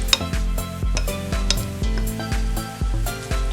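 Ecuadorian salsa with cilantro being stirred in a bowl, a series of rhythmic scraping swishes with light clinks of the utensil against the dish, close and alone.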